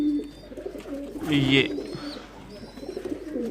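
A champion racing pigeon coos in low, throaty bursts, one swelling call near the middle, while someone talks over and around it.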